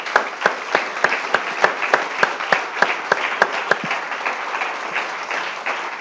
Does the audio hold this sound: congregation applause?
yes